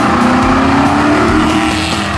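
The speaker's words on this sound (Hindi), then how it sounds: "Driving the Aston Martin Vantage" Aston Martin Vantage with a front-mid-mounted engine, heard driving: a steady, loud engine drone with a slowly rising tone over about two seconds, with no voices.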